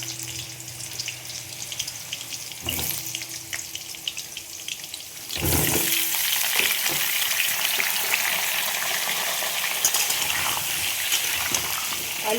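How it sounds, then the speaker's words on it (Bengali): Potatoes frying in hot oil for aloo dum, a quiet hiss that swells into a loud, steady sizzle once the pieces go in midway, with a few clinks and splashes and no talk. "আলুগুলো আমি ভেজে নেব।"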